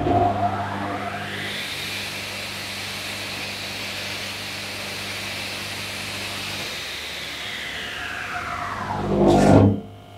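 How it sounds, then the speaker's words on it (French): A combination spindle moulder and table saw motor hums steadily at a constant pitch for several seconds, then winds down, followed by a short loud rumble at the end. "Pour vous faire écouter le bruit du moteur."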